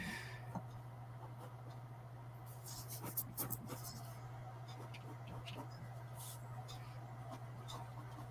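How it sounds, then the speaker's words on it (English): Pencil sketching on paper during a live drawing session, with soft scratchy strokes that come in short bursts over a steady low hum, near and fairly quiet. "I'm just having fun just sketching."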